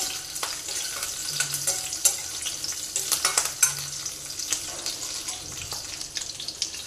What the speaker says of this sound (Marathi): लसूण थोडंसं कळसळलं की आपण त्याच्यामध्ये मिरचीचे तुकडे, मोठेच तुकडे ठेवलेले आहेत आणि एक लाल मिरची टाकून घेऊया